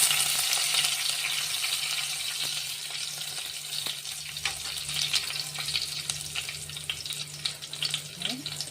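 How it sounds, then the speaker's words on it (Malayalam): Curry leaves hiss and sizzle in hot coconut oil among spluttering mustard seeds, a loud steady frying crackle with scattered pops and a faint stir near the end, no voices. "കറിവേപ്പില ഇട്ട് കൊടുക്കാം."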